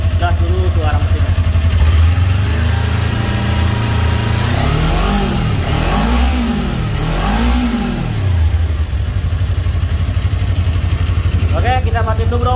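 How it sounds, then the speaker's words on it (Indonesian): A full-original Honda or Kawasaki motorcycle engine revved up close, climbing and falling in several strong swells from a rumbling idle before settling back to a steady idle. "kita langsung gas dulu suara mesinnya"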